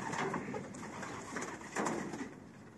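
Soft cooing of pigeons indoors in a pigeon loft, several birds murmuring over a faint background hum, quiet and continuous.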